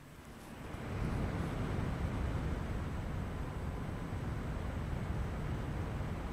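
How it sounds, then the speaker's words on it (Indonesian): Cooler Master PL360 Flux AIO liquid cooler fans spinning at full speed, around 2300 RPM, make a steady close whooshing hiss of moving air that swells in the first second, then holds constant and fairly quiet. "kalau kalian ingin mendengarkan seperti apa tingkat kebisingan kipasnya, saya akan dekatkan mic yang saya pakai ini"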